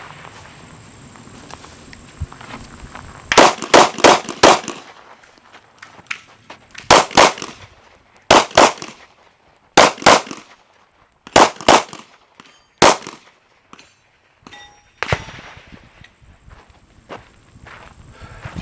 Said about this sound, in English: This setup allows me to shoot at the first target for defense, then run up and use that target to simulate cover to shoot to the other two.